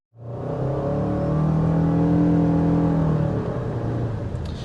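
A 2024 Toyota Sienna hybrid minivan with all-wheel drive accelerates from 40 to 60 mph. A steady engine drone with a rising tonal whine and road noise continues without a break, heard from inside the cabin with no talking.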